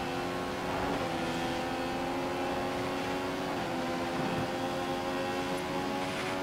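Continuous loud whine of a Formula 1 race car engine in F1 2015, held at high revs with steady harmonic tones and slight pitch shifts throughout.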